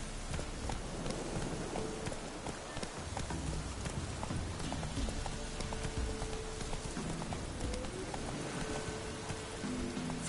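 Roach, a horse in the video game Witcher 3, gallops with steady rapid clip-clop hoofbeats throughout, continuous and fairly close, over a dense background wash that resembles rain.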